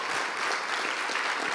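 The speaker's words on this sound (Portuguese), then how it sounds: "Dá para aplaudir!" Dense, steady applause from a church congregation, many hands clapping together in a loud, continuous wash with no break and no voices rising above it.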